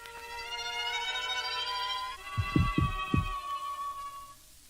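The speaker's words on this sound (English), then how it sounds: "the heart beat on" Three deep, booming heartbeat thumps in a quick rhythm during a reading of Edgar Allan Poe's The Tell-Tale Heart, rising over a sustained tonal hum that fades out near the end.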